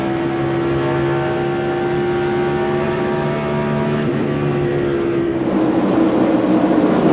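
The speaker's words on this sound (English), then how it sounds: "that engine sounds like it has some life to it now" A 2003 NASCAR Winston Cup race car engine drones steadily on the Charlotte track, a loud sustained tone that shifts pitch slightly toward the end, with no talk over it.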